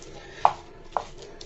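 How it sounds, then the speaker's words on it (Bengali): Boiled, softened chicken pounded with a pestle, two distinct close knocks about half a second apart over quiet room tone. "চিকেনগুলোকে সুন্দর করে বাটনার সাহায্যে পিষিয়ে নিব।"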